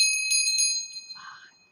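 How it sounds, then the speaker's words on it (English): A small bell rings several quick, bright times, then its ringing fades under a faint murmur. "the bell."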